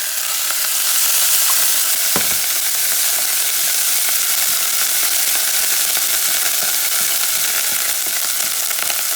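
Sofrito for a chickpea and beef-feet stew frying in a pan, a loud, dense, steady hiss of sizzling oil heard up close, with one brief knock near the start and no talk.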